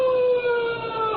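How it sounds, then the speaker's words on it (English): Police siren wails in a single long tone that slowly slides downward, loud and close, with no other sound over it. "Hey, that's a police siren."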